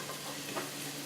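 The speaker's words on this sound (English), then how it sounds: "Stir." Vegetables for chicken noodle soup sizzle in a hot pot while being stirred, a close, dense frying hiss with a brief scrape of the spoon midway.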